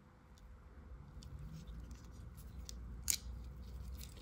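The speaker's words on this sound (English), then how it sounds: "The long inline Phillips and scissors that you find in the Outrider. Let's shut that first." A Victorinox pocket knife, an Outrider-style model, has its scissors and long inline Phillips tool folded shut, giving a faint metallic click with a sharp snap near the end against low background noise.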